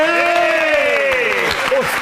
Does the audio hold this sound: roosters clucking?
no